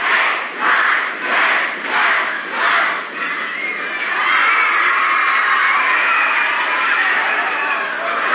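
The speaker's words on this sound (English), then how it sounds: "The crowd counting him out." A wrestling crowd at a 1980 Portland arena chants a rhythmic count in about five even swells, then breaks into a sustained, steady roar of cheering, loud and reverberant.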